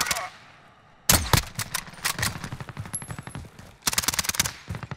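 Submachine gun fire from an OTs 9 in the video game Warzone on Rebirth Island, loud rapid bursts of shots in quick strings, close and punchy, with brief gaps between bursts and a short voice at the start.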